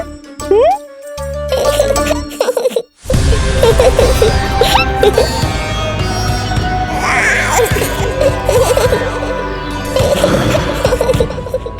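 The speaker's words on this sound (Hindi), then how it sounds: "ऐसी मधुर किलकारी की प्रकृति भी खिल उठी।" A baby's sweet, gurgling cry rises in short warbling bursts, set under loud, continuous devotional music with instruments and voices.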